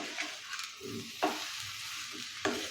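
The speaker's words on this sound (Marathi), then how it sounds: "हे हळीव ही या मिश्रणामध्ये व्यवस्थित असे मिक्स करून घ्यायचे आहेत" Halim (garden cress) seed ladoo mixture being stirred in a pan, with soft scraping strokes and brief sizzling bursts repeating at a steady pace, close by with no talk.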